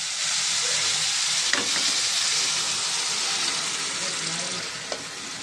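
Mutton fries and is stirred in a pan for a mutton and cauliflower curry, giving a loud, continuous sizzle with faint scraping from the stirring and no talking.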